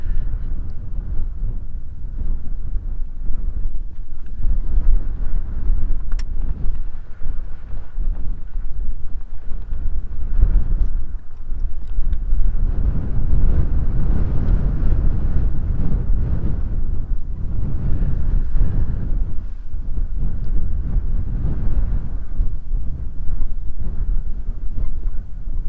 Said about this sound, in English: with the wind pumping quite a lot now